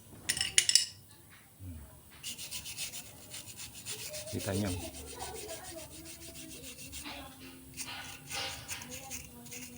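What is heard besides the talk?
sanding with sandpaper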